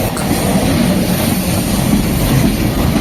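A European high-speed train arrives at a station platform, a steady loud rumble and rush of wheels on rails filling the whole stretch without pause.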